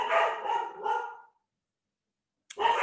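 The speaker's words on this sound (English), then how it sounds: "Sorry, dog's barking." A dog barks three times in quick succession, fairly close and loud, falls silent for about a second, then barks once more.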